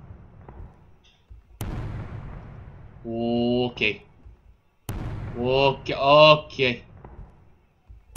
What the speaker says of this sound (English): I heard a gunshot. I hear gunshots.